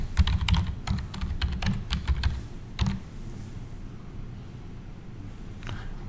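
Close, clicky keystrokes on a computer keyboard in a quick run lasting a few seconds, then near quiet with one last tap; no one speaks.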